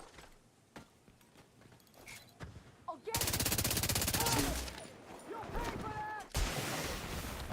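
Turret gunfire in the video game Dune Awakening: scattered sharp shots at first, then sustained rapid bursts of automatic fire with brief pauses, mixed with other game effects.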